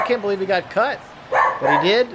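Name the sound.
dog barking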